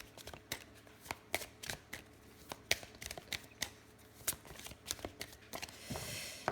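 Oracle cards are shuffled by hand, with repeated crisp riffling bursts in an uneven rhythm, close and clear, ending in a brief softer flutter.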